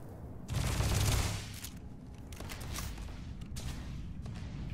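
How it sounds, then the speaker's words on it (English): Gunfire in the space role-playing game Starfield, a loud burst of rapid shots followed by continued firing and distant crackling blasts, with no one talking. "this gun does not have enough bullets"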